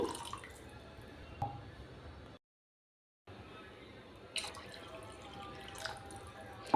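Water pours steadily and close by with a soft rushing splash into a pot of rice for tomato rice, stopping briefly partway before pouring resumes.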